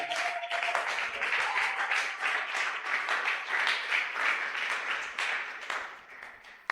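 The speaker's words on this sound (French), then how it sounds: "Acclamez pour la gloire de Dieu." A church congregation at a Sunday worship service applauding, steady rhythmic clapping from many hands in a reverberant room, fading slightly toward the end, with voices mixed in.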